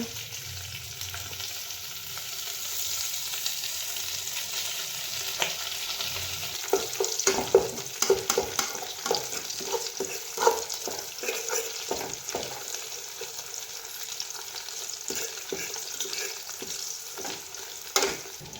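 Hibiscus flowers and leaves fry in melted coconut oil for a homemade hair oil, giving a continuous close sizzle broken by irregular stirring clinks and scrapes, with no voices.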